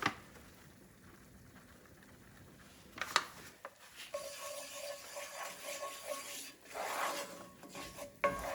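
Pork chop gravy being stirred in a pan: close, steady scraping and rubbing strokes of a utensil against the pan, growing busier and louder partway through, with no talking.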